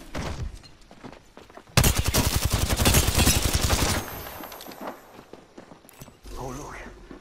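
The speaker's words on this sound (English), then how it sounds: "They're shooting at me." Gunfire from people shooting, a loud, close burst of rapid shots lasting about two seconds, then scattered quieter sounds and a voice talking.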